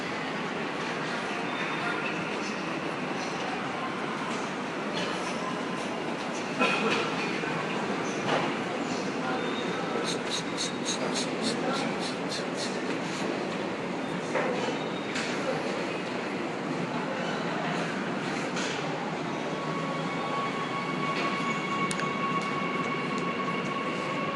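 Continuous rumbling roar of a subway train pulling into a station, with rhythmic clatter partway through and faint voices in the background.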